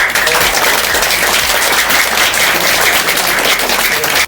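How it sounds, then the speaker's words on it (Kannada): Schoolchildren at a Children's Day school event clap loudly together, a dense, sustained burst of applause that holds evenly for about four seconds before cutting off. "ನಾವು ಮತ್ತೊಂದು ಜೋರಾಗಿ ಚಪ್ಪಾಳೆ ತಟ್ಟಿ"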